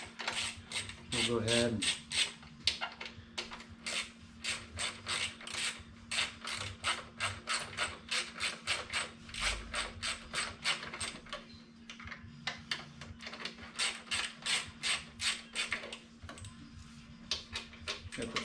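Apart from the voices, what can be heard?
ratchet removing bolts from Triumph Tiger 900 air box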